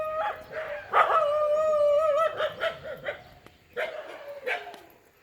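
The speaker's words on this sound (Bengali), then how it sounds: "দেখছেন ওইদিকে কুকুর, আমি কম্পাসটা যাবো।" A dog barks and howls outdoors in a few drawn-out, wavering calls followed by shorter yips, fairly close and clear against a quiet background.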